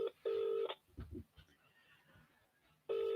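A telephone line rings during a live broadcast call: two electronic tone bursts, the second after a pause, with faint background noise between them.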